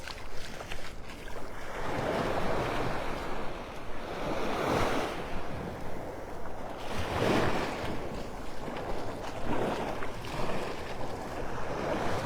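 Ocean surf washes steadily onto Vanderbilt Beach in North Naples, Florida, at outgoing tide, with broad waves swelling and breaking every few seconds and light wind noise throughout.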